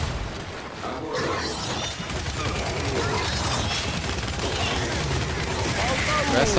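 Sustained gunfire from a weapon in the Gears 5 campaign, a dense, continuous burst of rapid shots and impacts running loud through the whole stretch, with game sounds layered beneath.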